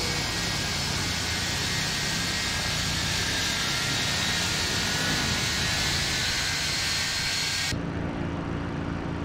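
Twin jet engines of a McDonnell Douglas MD-83 run steadily in a flight simulator game, a loud, constant whine and roar with high tonal hums that stays level throughout, then drops abruptly in brightness near the end.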